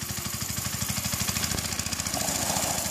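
A small vehicle engine drones steadily with a rapid, regular throb as it rides around a backyard, fairly close and without talk.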